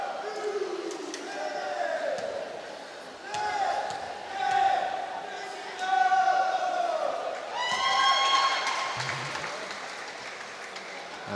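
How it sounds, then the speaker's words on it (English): Fans in the stands at a women's senior national league basketball game in Ireland make themselves heard with shouts, chants and cheering that swell and fade, while a commentator talks over the crowd. "a few of the Maui Basketball Club lads in the crowd making themselves heard"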